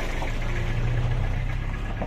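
A generator set engine hauled along at a carnival sound-system parade in Jember, Indonesia, runs loud and steady with a constant low drone and mid-range rumble, no pauses, no voices.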